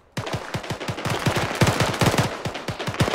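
A close, loud burst of automatic rifle fire in the Arma 3 military game, dozens of rapid sharp shots in quick succession for about three seconds, with no talk.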